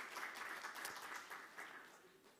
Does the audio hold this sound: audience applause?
yes